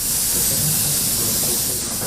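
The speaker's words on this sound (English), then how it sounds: "We will spray the exposed plywood as well as all the joint lines." Pressurized spray of formaldehyde treatment solution onto exposed plywood and joint lines in a home, a steady loud hiss running unbroken for about two seconds.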